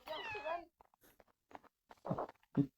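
A kitten in a survival video game gives one clear, wavering meow at the start, followed by sparse soft taps and short bursts of a voice speaking.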